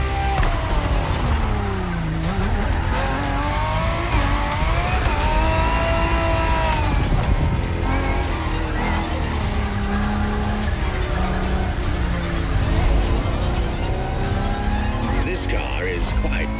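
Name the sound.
La Ferrari-based supercar racing in The Crew Motorfest video game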